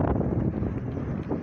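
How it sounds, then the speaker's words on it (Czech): Strong gusty wind buffets the microphone near a small wind turbine used for home electricity, a loud close roar and rumble throughout with no talk. "tady jako by se mnou cloumá vítr do všech stran"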